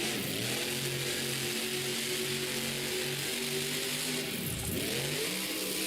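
A monster truck named Mayhem, driven by Chris Kohler, revs loudly during a Monster Jam World Finals qualifying run, its engine holding a steady roar with one sharp dip and surge near the end.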